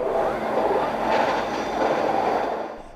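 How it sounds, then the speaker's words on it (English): A rickety Scarborough RT rapid transit train runs along its rails with a steady, loud rumble and faint clatter, holding close and continuous before easing off at the very end. "the rickety train continues to run"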